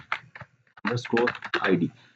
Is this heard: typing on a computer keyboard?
yes